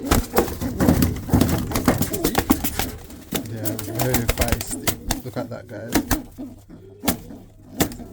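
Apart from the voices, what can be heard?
pigeons cooing in a loft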